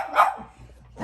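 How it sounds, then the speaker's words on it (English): Dogs barking indoors late at night while playing, one sharp close bark followed by a softer start of another, loud and without talk. "It's late at night and my guys are barking and trying to play."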